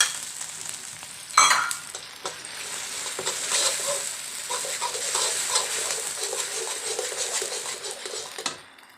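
Clams stir-fried in a pan with fresh water added give a steady, close sizzle and bubbling for most of the stretch, with a loud clatter near the start and scattered scrapes and clinks of a utensil against the pan.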